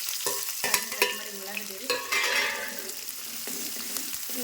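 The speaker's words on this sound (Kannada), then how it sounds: "ಉಳ್ಳಾಗಡ್ಡಿ ಒಂದು ಸ್ವಲ್ಪ ಫ್ರೈ ಆಗಬೇಕು" Finely chopped onions fry in oil with mustard seeds in a pan, giving a soft, close sizzle broken by sharp spatula taps and scrapes against the metal, with no talking.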